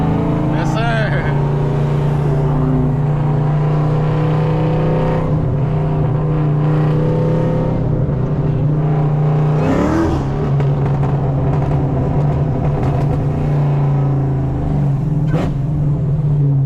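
A cammed Chevrolet Camaro ZL1 drones loudly and continuously while driving, its engine rising in brief revs and falling back, with people talking over the steady, close rumble.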